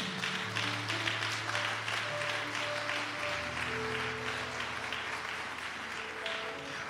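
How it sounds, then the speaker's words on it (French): A church congregation gives a loud, sustained round of applause and cheering for the Lord, with dense clapping and held organ or keyboard tones underneath. "Et acclamez très fort le Seigneur."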